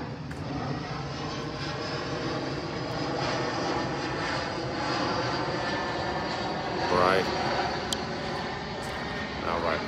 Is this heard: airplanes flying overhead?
yes